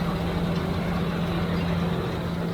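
The engine of a Pöttinger Europrofi forage wagon runs in a steady, low, humming drone that stays constant throughout, with no voices.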